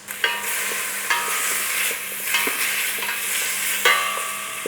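Frozen bacon lardons fry and sizzle in a pan over a low flame, a steady crackle with repeated stirring clatters and scrapes of a utensil against the pan, close and fairly loud, with no voices.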